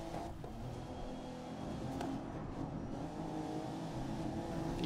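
A BMW M1 race car engine drones steadily in the racing game GRID, a continuous moderately loud hum with slight revving changes and no talk over it.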